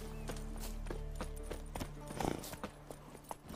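Horse hooves clip-clop at a gallop in The Witcher 3 video game, a steady quick rhythm of close, mid-loud hoofbeats running continuously with a faint whinny mixed in.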